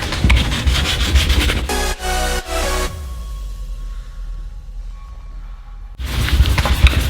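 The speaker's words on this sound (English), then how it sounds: "I'm gonna use some 800 grit sandpaper, kind of smooth this out" Hand sanding of a car roof with 800 grit sandpaper during wrap preparation, heard as steady close scratchy rubbing strokes that pause midway into near silence before the rubbing resumes.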